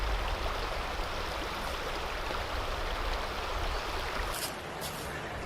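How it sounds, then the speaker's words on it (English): Stream water rushing steadily and loudly behind a Canon M50 camera with a Rode VideoMic Go attached, a dense continuous outdoor wash with no voices. "this is what it sounds like with water behind me and the Rode mic"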